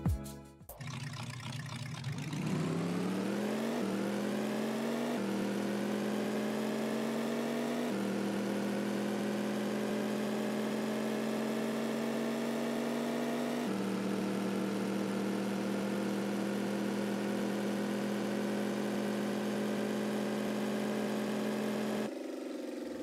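A Hot Wheels Twin Mill 3 car engine in a video game revs up from a start, then settles into a steady, droning idle that holds for a long stretch before cutting off at the end.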